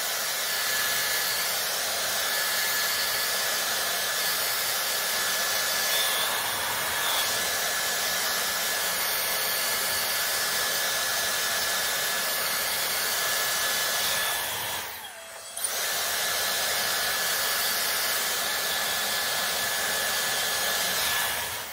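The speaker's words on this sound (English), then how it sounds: "I'm gonna blow dry my root" A Dyson Airstrait blowing hair dry at the roots on its middle heat setting, a steady loud whooshing roar that runs nearly unbroken, with one brief dip partway through.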